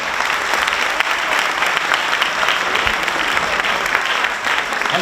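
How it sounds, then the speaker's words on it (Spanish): A crowd claps loudly and steadily at an honorary award ceremony at the Liceo de Ourense, dense applause filling the whole stretch without pause. "Darle un aplauso, por favor."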